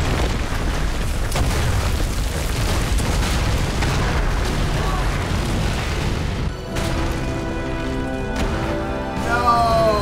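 Bombs explode and destroy a mansion in a TV drama, giving sustained loud rumbling booms that fill most of the clip before cutting to a quieter, ringing aftermath, with a voice heard faintly beneath.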